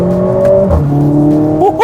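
A Mercedes-AMG A45 S hot hatch engine in race mode revs hard and close, its loud raspy note dipping in pitch, then climbing again in a short aggressive burst.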